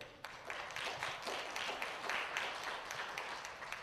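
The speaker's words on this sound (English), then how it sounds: "Okay, let's give them a round of applause." Audience applause at a lecture event, a fairly faint patter of scattered clapping from a modest crowd, with individual claps standing out in an uneven rhythm for a few seconds.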